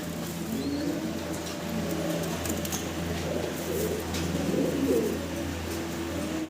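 Low, steady cooing of fancy pigeons fills the clip, several birds overlapping in a continuous murmur with faint background hum and no talking.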